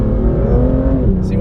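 Engine of a rear-wheel-drive BMW M2 while drifting, a loud continuous low rumble with steady revs, heard close from inside the car.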